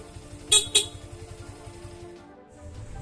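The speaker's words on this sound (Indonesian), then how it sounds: "Dan ada juga klakson." Two short, sharp beeps of a motorcycle horn in quick succession over a low idling engine hum.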